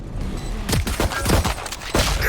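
Gunfire from a competitive shooter video game match: a loud, rapid series of shots in quick succession over a dense, continuous layer of game sound.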